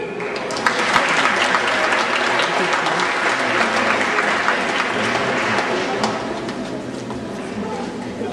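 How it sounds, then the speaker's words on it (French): An outdoor crowd at a show in Wesserling park applauds loudly and continuously, a thick, even roar of many clapping hands lasting throughout with a few sharper individual claps standing out. "On l'applaudit."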